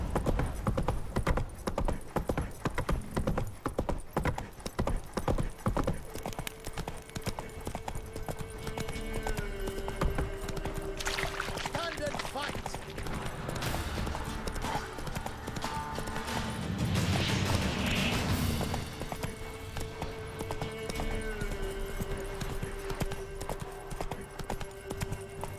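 Horse hooves clip-clop steadily at a gallop in The Witcher 3, a continuous rhythmic pounding with game music and ambient sound underneath, briefly louder around the middle.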